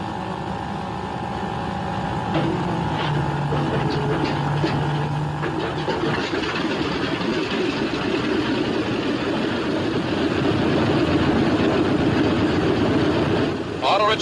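A B-26 Marauder bomber's piston engine fires and settles into a steady idle, a loud continuous rumbling drone that grows rougher after the first few seconds and holds close throughout, with no talk over it.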